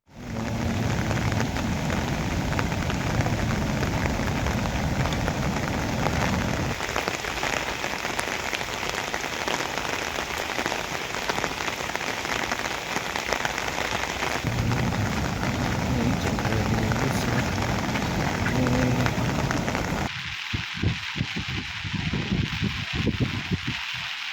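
Heavy monsoon rain pours steadily in Navsari district, Gujarat, a dense, loud, unbroken hiss that lasts throughout, shifting in texture partway through as if heard from a different spot.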